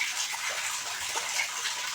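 Fresh water falls and splashes into a flow-through culture system at a catfish farm, a steady, close, hissing gush with no pauses and no voices.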